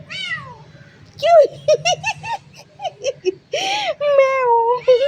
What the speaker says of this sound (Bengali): ম্যাও কি হয়েছে কি হয়েছে ওলি বাবা